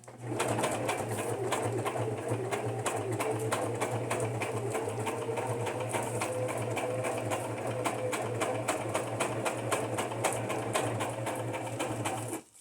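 A sewing machine stitches a fabric cover for a junk journal in one steady, close, continuous run with a rapid rhythmic needle chatter and a low motor hum, stopping abruptly at the end.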